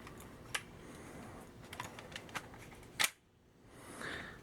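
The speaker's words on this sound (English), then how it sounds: "It clicks forward. That is the catch." Adventure Force Thundershot toy blaster catch clicking forward, a handful of sharp plastic clicks and ticks spread over a few seconds, with a louder snap just past the midpoint followed by quiet.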